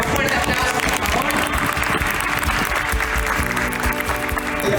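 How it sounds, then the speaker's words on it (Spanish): A crowd at a corporate award ceremony on a stage claps in strong, continuous applause that fills the whole stretch, with some voices mixed in. "Con un fuerte aplauso"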